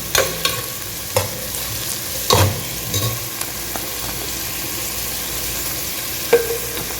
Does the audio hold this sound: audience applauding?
no